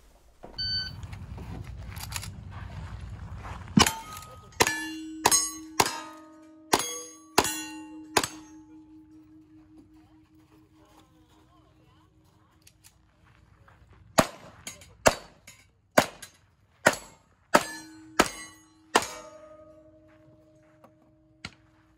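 Wild Bunch action shooting stage: a run of sharp gunshots, each followed by a ringing clang of bullets striking steel targets, in two quick volleys with a lull between, close and loud outdoors.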